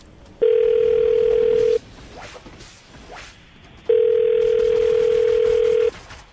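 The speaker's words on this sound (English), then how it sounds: "I'm about to dial Terrence's phone number, see if we can get him on the phone" A telephone line giving two long steady tones, each held for over a second with a short gap of rustling noise between them, loud and close.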